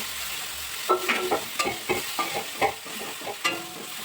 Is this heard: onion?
yes